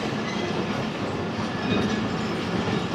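The 171 Up Sialkot Express passenger train running from Narowal to Wazirabad, a steady loud rumble of coaches on rails with rhythmic clickety-clack, heard from on board, no talk.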